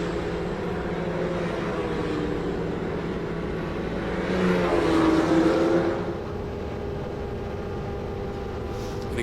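Autonomous race cars in a passing drill on a track at CES, their engines a steady, fairly distant drone that swells briefly as one car draws closer and passes, then settles back.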